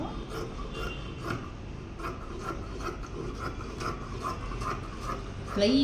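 Scissors cut through blouse lining fabric in repeated rhythmic snips, a soft rasping crunch close at hand, with a faint voice toward the end.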